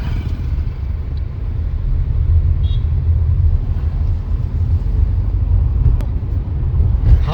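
Heavy road traffic rumbles steadily behind a roadside spot near a temple on the scenic Kapurhol–Saswad road, a continuous low engine drone with no voices over it.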